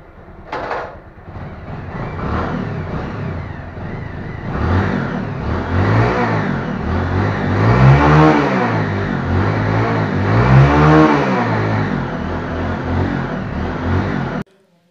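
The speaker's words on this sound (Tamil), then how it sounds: "ஸோ கொஞ்சம் இன்ஜின் ஹீட் ஆகட்டும், அதே நம்ம வெயிட் பண்ணுவோம்." A motorcycle engine runs steadily while warming up ahead of carburetor tuning, a continuous mid-pitched drone with slight rises and falls in revs across the whole stretch, close and fairly loud, ending abruptly.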